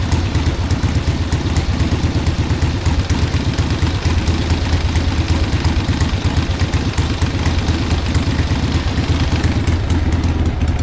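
A barn-find Harley Iron Head motorcycle engine running after 25 years of sitting, a loud, close, rough and lumpy idle with rapid uneven firing pulses and mechanical clatter throughout.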